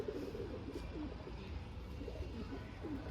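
A giribaz pigeon coos quietly with low, throaty burbling phrases repeating over a faint background hum.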